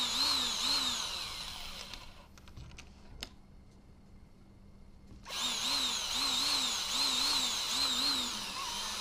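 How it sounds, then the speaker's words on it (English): Ascend 12T kayak hull being drilled with a power drill, its motor whining in a steady, close, loud run that pauses for a few seconds midway and then resumes. "I'm going to go ahead and get that hole drilled."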